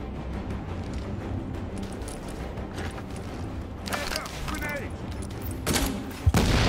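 A grenade launcher fires during a firefight in The Division, with blasts and rattling gunfire among steady combat noise and a sharp thump near the end, while people talk over it.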